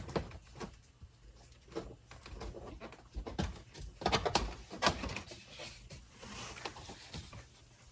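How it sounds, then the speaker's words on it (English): Rubber door seal being pulled off a Toyota Camry door frame during a rear dash cam install, a series of quiet close tugging, peeling and snapping pops in irregular bursts. "Let me pull off that door seal."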